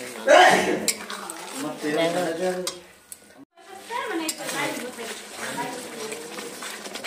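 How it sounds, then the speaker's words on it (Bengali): Spices sizzle and fry in butter as they are stirred for mutton kosha, a steady crackling sizzle with scraping strokes of a spoon against the pan, while someone talks over it. "দিয়ে গেলাম মাখন, কষিয়ে নেব।"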